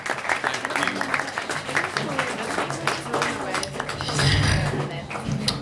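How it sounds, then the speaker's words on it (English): An audience applauds reader Felipe after a reading, steady clapping filling the room at moderate loudness, with a few voices and a brief low murmur rising near the end. "Round of applause for Philip."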